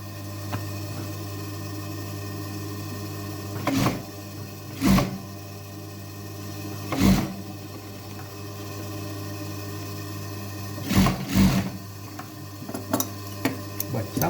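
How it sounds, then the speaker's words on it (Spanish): Sewing machine stitching denim jeans, a steady mechanical hum with short, sharp bursts of faster stitching repeating at irregular intervals over a constant background drone. "Vamos a volver a coser por el mismo lugar."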